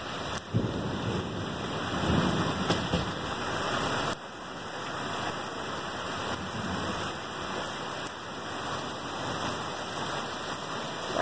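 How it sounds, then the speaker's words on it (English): Hurricane storm with heavy rain pouring down in a dense, steady wash of noise, with gusty rumble underneath and no speech, close and continuous throughout. "it looks like a hurricane"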